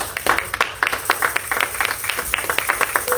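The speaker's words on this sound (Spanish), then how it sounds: "Denle fuerte ese aplauso al Señor" Congregation clapping during a church service, a dense, steady patter of many hands sustained throughout with some ambient room noise.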